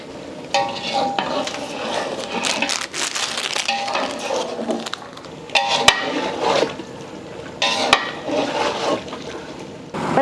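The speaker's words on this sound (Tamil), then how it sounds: "தண்ணி ஊற்றிடலாம்." Water splashes and pours into a large pot of chicken gravy with spices, with stirring clatter and bubbling, close by and continuous, with brief louder bursts.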